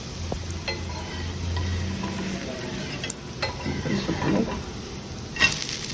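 Sarva pindi, a traditional Telangana rice flatbread, sizzles and crisps in oil on a pan, giving a steady close frying hiss with occasional stirring scrapes and a light clink near the end.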